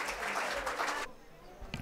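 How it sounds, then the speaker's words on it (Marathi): An audience at a cultural programme during a Sevagram camp claps for an upcoming bhajan singer in a brief, dense burst of about a second that then drops away to room quiet. "एकदा जोरदार टाळ्या वाजवूया."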